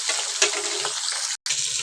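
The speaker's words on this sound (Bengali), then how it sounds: "মাছটাকে এপিট ওপিট করে খুব হালকা করে ভেজে নিয়েছি।" Pabda fish sizzling as it fries in a pan, a bright continuous crackle with a soft clink of the pan and one brief cutout near the end.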